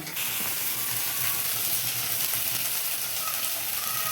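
Spice paste frying in a pan, a steady crackling sizzle that runs evenly and fairly loud the whole time, close by, with no talking.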